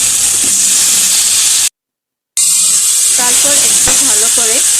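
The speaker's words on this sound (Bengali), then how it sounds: "আলুগুলো ভেজে রাখা আলুগুলো আমি দিয়ে দিব মশলাটার মধ্যে। তারপর একটু ভালো করে নেড়ে চেড়ে" Fried potatoes are tossed into a spice masala for Bengali-style aloo paneer, loud close hissing sizzle with stirring scrapes, a brief dropout of silence midway, and a voice speaking briefly over the cooking.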